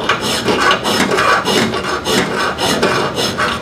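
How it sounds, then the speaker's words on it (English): A hand file rasps across metal on a car being swapped from a Slant 6 to a 383 V8, in steady back-and-forth strokes about two per second, close and prominent, with no talk. "I'm going back and forth"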